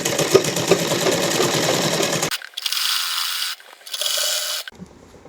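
Sewing machine running in bursts as it stitches a salwar seam, a dense mechanical whir for about two seconds, then two shorter runs separated by brief pauses, close and fairly loud with no voices.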